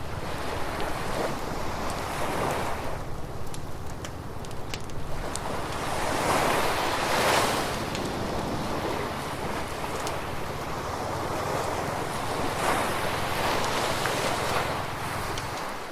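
Seaside waves at a cove wash and surge continuously, loud and close, with heavy wind buffeting the microphone and no voices.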